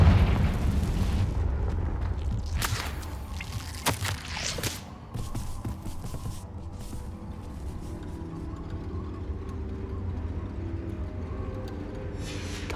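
Confringo fire-blast spell explosion in the Hogwarts Legacy video game, heard as a loud blast with sharp cracks and debris-like clatter, then a long rumbling fade over a steady low ambience.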